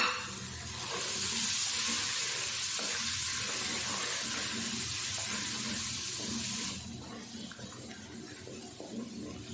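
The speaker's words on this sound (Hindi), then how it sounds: "मसाला हमारा अच्छे से भून के तैयार हो गया" Masala spices with salt and turmeric fry in a pan after a splash of water for kadhi pakora. A steady, hissing sizzle runs loud and close, then cuts off sharply about two-thirds through, leaving faint clicks and stirring.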